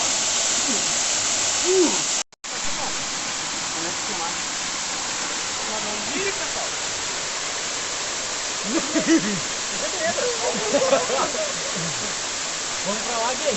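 The Butiá waterfall in December roars as a constant, loud wash of rushing water filling the whole stretch, with a brief dropout early on and people chatting faintly beneath the torrent.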